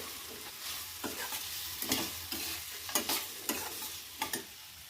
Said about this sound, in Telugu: ముందు మనము కాకరకాయలు అయితే వేయించుకోవాలి కొద్దిసేపు నూనెలో